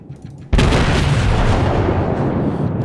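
Kawachi battleship cannons fire in World of Warships, a sudden loud booming blast after half a second of quiet, its rumbling roar sustained and slowly fading over the next two seconds.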